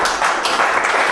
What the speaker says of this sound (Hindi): आपके सामने एक बार जोरदार तालियां.